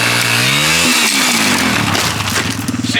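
A dirt bike engine revs hard and close, its loud buzzing pitch rising and falling as the throttle opens and drops back.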